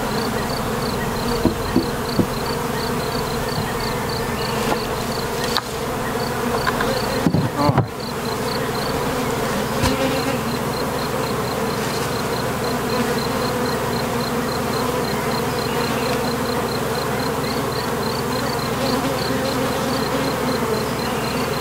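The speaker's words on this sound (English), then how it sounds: "make sure that it's very strong and has efficient bees in there to compensate for the loss of the foragers." Honey bees buzz steadily around an open beehive while frames of capped brood are inspected, a dense continuous drone that stays close and loud for the whole stretch with a few brief knocks and shifts partway through.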